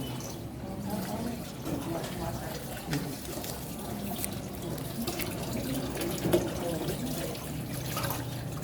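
Four cups of water pour from a tap or container into a bowl for sardine brine, a steady continuous splashing stream, moderately loud and close, with a voice speaking over it.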